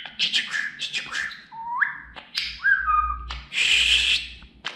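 Pet budgerigar chirping and whistling in a busy run of rising whistles, warbles and squeaky chirps, close and fairly loud, with a low background rumble.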